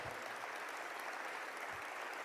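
Sustained audience applause at a State of the Community speech, a dense, even wash of clapping from many hands that holds steady from start to finish.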